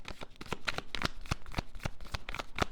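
Tarot cards riffle and slap in quick repeated shuffles, crisp close bursts in an uneven rhythm with no talk.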